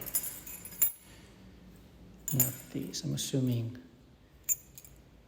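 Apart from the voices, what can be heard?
keys jangling while searching for garage keys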